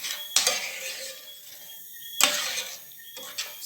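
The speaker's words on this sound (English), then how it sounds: "So we're stirring it." A spoon scrapes around a cooking pot of cow kidney and gravy, with two or three loud clanking strokes against the metal over a soft steady sizzle, close up and without talk.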